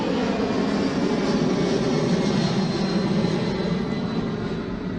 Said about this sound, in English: We actually hear engines. We see a plane taking off right now.